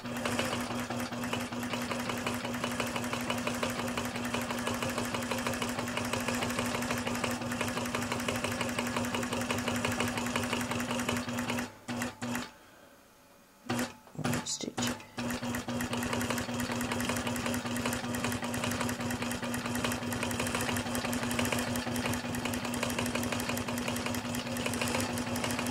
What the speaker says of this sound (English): so I'm stitching on the white fabric